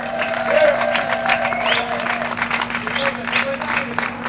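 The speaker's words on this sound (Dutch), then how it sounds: "Geef hem een heel groot applaus." Audience at an outdoor Charlois Greets North Sea Jazz concert applauds a Cuban percussionist, steady loud clapping with some cheering over a sustained instrumental hum and a voice speaking through it.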